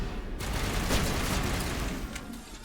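Shotgun blasts and combat noise from the Mass Effect trilogy video game, a dense, loud burst of booming gunfire and impacts filling the whole moment with no talking.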